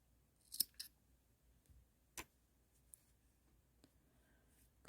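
Scissors snipping yarn during crochet work, a couple of faint quick clicks close by, then a single sharper snip, with light handling ticks in a very quiet room.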